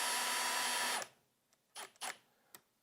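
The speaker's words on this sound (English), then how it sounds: "So I drive the bolt in a little bit so that it helps me align this better" A power tool drives a bolt into a Corvette C7 side skirt, whirring for about a second before stopping, followed by a few short bursts and a brief blip, all close and fairly quiet.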